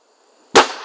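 A single sharp crack from a BSA Airsporter Stutzen RB2 air rifle firing, close and loud after near silence, with a short fading tail.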